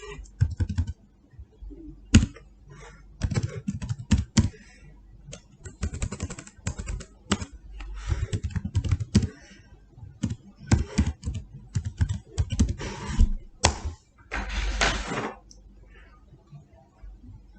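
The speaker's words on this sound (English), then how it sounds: "you need to go to your web browser and type this link" Fingers type a link on a computer keyboard in quick irregular bursts of clicky keystrokes, close and clear, with short pauses between runs and no talking.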